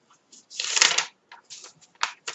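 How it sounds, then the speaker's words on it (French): Paper being handled and cut with a corner punch, a series of short crisp rustling and snipping bursts separated by pauses, close and moderately loud, no talk. "Donc, avec notre perforatrice d'angle,"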